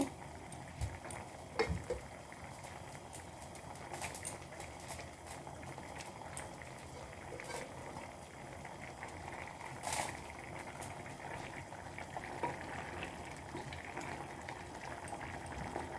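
A pot of tomato and catla fish curry bubbling on the stove, a continuous soft boil with small pops and gurgles, close and fairly quiet throughout.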